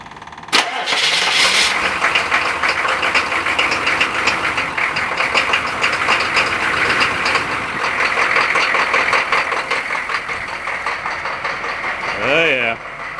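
A green pickup truck engine runs loud and continuous, broad and rough for about thirteen seconds, with a sharp start near the beginning and a brief rising-falling sweep toward the end.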